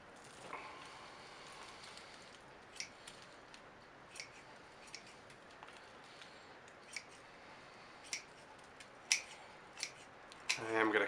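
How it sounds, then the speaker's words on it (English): Pruning shears snip bonsai tree branches in a series of faint, crisp clicks and cuts, spaced irregularly over a quiet background, with one louder snip near the end. "I am going to cut a little bit more off the bottom."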